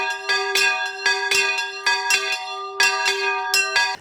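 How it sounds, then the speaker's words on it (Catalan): Restored church bells at the hermitage of Mare de Déu del Pilar in Mareny de Sant Llorenç ring in a lively, uneven peal, clear bright strikes ringing out over a steady sustained tone. "Així sonen les campanes de l'ermita de la Mare de Déu del Pilar del Mareny de Sant Llorenç"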